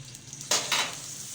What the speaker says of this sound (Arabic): احنا كده يا حبايب قلبي اهو حطينا البصل على الزيت